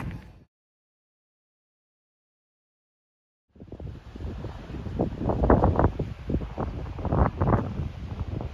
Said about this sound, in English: it's so windy in some spots